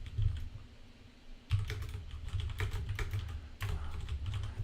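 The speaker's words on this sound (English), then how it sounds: "Imagine someone's going to type in something like," Rapid typing on a computer keyboard entering a query into a search box, with close clustered key clicks in bursts separated by brief pauses, and no voices.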